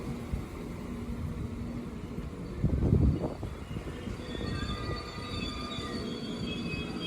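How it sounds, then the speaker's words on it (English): A passenger train rumbles into Worksop station, a heavy clattering surge in the middle, then high metallic wheel squeals ring out as it slows. "this one will bring you the 1710 Northern train service from Leeds through to Lincoln Central"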